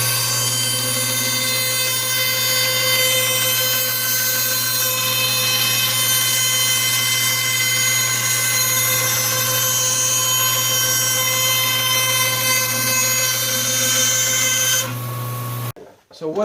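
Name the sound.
bandsaw cutting out an arc in wood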